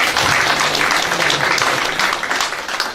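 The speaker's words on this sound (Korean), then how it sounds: "우리 차은수 회장님 박수 한번 해주십시오" A community hall audience applauds a local association chairman who carried the Olympic torch, a dense, fairly loud wash of many hands clapping for about three seconds and easing off at the end.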